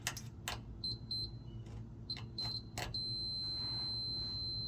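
Several short, high electronic beeps from a multimeter continuity test to vehicle ground on a 5th-gen RAM 1500 sound in quick bursts amid faint clicks, then a single steady tone holds for the rest.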